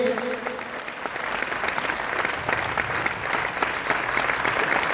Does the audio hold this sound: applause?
yes